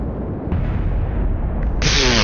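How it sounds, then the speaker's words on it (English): A rocket blows up during launch in a PS4 rocket-building game, a loud sustained rumbling roar that swells midway and ends in a brighter crackling burst, with no talk over it. "Explosions!"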